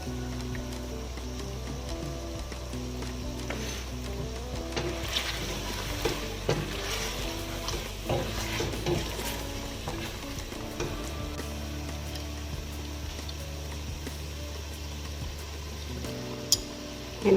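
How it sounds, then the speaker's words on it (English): Meat with tomato frying in a pan, a steady close sizzle and crackle with occasional stirring scrapes and clinks throughout. "Our meat is frying very well."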